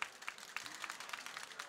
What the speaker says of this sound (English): Applause, please, to them